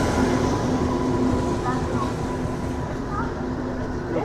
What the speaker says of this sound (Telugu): ప్లాట్ఫామ్ 1కి వచ్చేసి మనకు ప్రశాంతి ఎక్స్ప్రెస్ అయితే వస్తుంది